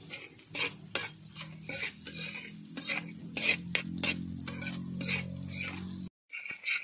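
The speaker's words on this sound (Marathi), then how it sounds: "कांदा आता गोल्डन ब्राऊन होईपर्यंत असा परतून घेऊया" A spoon stirs and scrapes sliced onions with cumin powder in a pan on a tawa for egg masala, with steady clinks of metal on metal over a soft sizzle and no talking.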